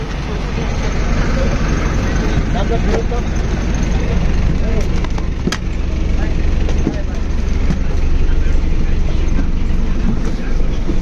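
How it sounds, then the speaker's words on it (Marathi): An MSRTC BS6 bus pulling away and driving on the route from Aurangabad toward Sangli: a loud, continuous low engine and road rumble with rattles and knocks from inside the cabin, heard close. "तर गाडी आता निघत आहे"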